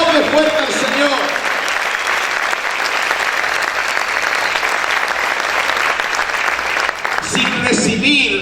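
A church congregation applauds loudly and steadily, a dense wash of clapping that fills the space for several seconds before tapering near the end, with voices mixed in.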